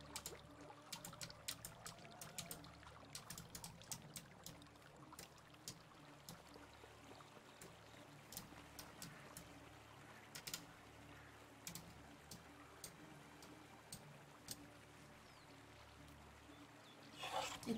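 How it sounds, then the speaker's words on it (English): A flowing river in Medieval Dynasty gives a soft, steady trickle and burble of water, with faint scattered clicks and taps over the quiet wash. "I'll just be really quiet for the next minute while I craft so you can listen to the river"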